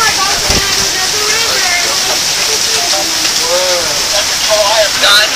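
Heavy storm rain with quarter-size hail pours down in a loud continuous roar and hiss, with a faint whistle-like tone and a thump early on, no clear speech.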